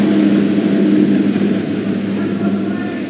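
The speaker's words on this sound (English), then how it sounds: "wait for that plane." A jet aircraft passing overhead during an outdoor truck unveiling, a loud broad continuous roar that slowly eases off without voices.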